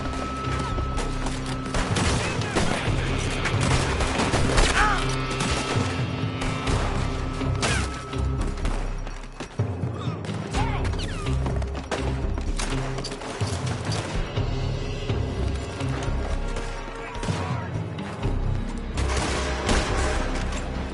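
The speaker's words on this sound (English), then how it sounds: "They're shooting from that building." Loud, sustained gunfire from a shootout in the video game Red Dead Redemption 2, with shots crashing over a dense, busy in-game mix that stays close and continuous throughout.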